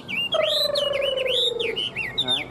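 A hwamei songbird with a fanned tail sings loud, close, clear whistled phrases, with a long sustained note, then rising and falling warbles.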